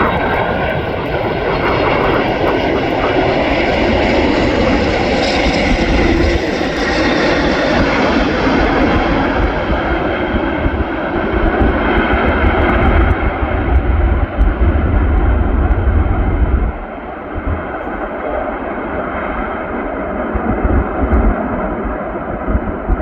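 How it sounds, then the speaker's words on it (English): A Cathay Pacific Boeing 747-8 cargo jet lands at Anchorage after arriving from Hong Kong, its engines a loud, steady, broadband roar that holds throughout and eases slightly near the end. "Our next arrival, Cathay Pacific 747-8 arriving from Hong Kong."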